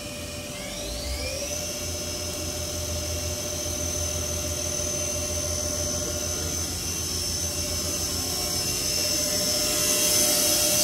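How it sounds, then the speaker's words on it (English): A Milltronics RW 20 machine spindle from 2005 spins up and then runs at 5300 RPM, a steady high-pitched whine with a rising pitch at the start that holds continuously and slowly grows louder. "It's running at 5300 RPM now. Spindle sounds good."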